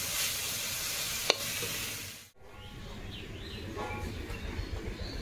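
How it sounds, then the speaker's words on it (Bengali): Leafy greens (shak) fry in a pan with a steady, close hiss and crackle that continues evenly, broken by one brief cut before the sizzling resumes. "তো দেখতে দেখতে কিন্তু শাক ভাজাটাও আমার হয়ে গেছে দেখো"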